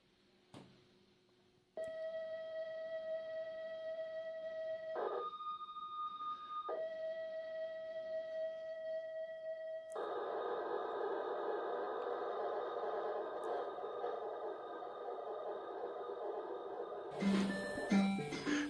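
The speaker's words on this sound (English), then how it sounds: "Tape is turning now. Just wait for those wonderful tones." An Amstrad 6128 Plus loads data from cassette tape: a steady pilot tone shifts to a warbling, noisy data signal, then turns into dense chirps near the end. The loading runs for a long stretch with no talk.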